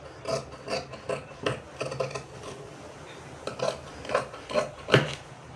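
Scissors cutting cloth at a tailoring lesson, a run of short rasping snips in uneven bursts, close and fairly quiet with no talk.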